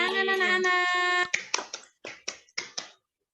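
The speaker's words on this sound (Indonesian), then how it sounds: "Tepuk tangan anak-anak." Children in a classroom chant together, then clap in a short run of about six sharp, evenly spaced claps that stop abruptly into silence.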